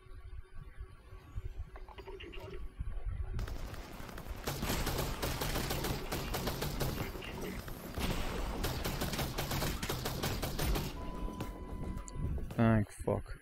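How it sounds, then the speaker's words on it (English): Video game gunshots come as a dense, sustained fusillade of rapid automatic fire that lasts for several seconds, loud and close, with voices talking over and around the shooting. "I don't know where those other shots are coming from"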